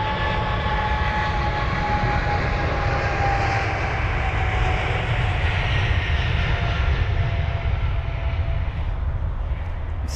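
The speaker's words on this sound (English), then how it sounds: "not New York jet, the British Airways 777 aircraft. After New York, flight number BA115" British Airways Boeing 777 jet departing Heathrow bound for New York, a loud, continuous roar of jet engines with a sustained high whine, steady and close throughout, no talk.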